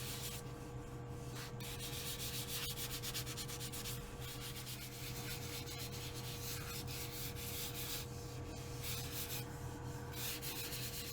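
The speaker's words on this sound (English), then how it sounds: "This is 320 grit sandpaper. So just lightly working it over that area." 320-grit sandpaper rubs back and forth by hand over wood in repeated light strokes, close and steady, alongside a constant low hum.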